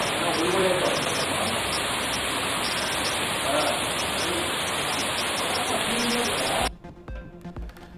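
Heavy rain pours steadily in Tamil Nadu, a dense, loud roaring wash that holds for most of the stretch before cutting off abruptly near the end.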